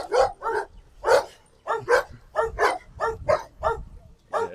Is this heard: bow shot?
no